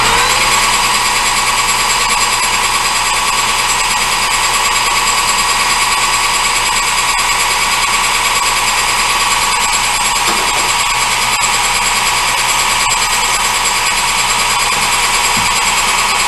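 Machinist's power tool cutting the corner off a metal piece for a door stop, a loud, steady high-pitched grinding whine that runs unbroken and close for the whole stretch with no talk.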